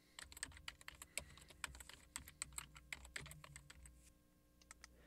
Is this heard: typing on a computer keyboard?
yes